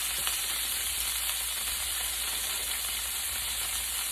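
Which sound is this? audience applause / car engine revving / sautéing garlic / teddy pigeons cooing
sautéing garlic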